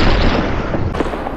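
A video game gunshot lands as a single dull, heavy thump over a loud, noisy rumble.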